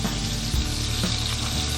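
Southern pork chops fry in a hot pan with a steady, dense sizzle and crackle that runs unbroken at close range, with no voices.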